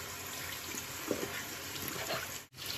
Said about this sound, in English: So I'm gonna just rinse this off.